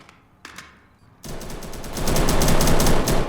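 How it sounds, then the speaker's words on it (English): Gunfire in a competitive video game match: a couple of faint shots, then a sudden loud burst of rapid automatic fire that keeps building, dense and close. "Has a good shot on him and takes out Zeqot."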